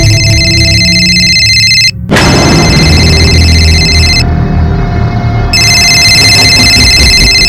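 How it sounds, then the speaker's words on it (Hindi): A mobile phone rings in a home, a steady electronic ringtone with bright repeating tones that plays loudly, cuts out briefly, and then continues alongside a low background hum. "फोन तो मेरा बजा"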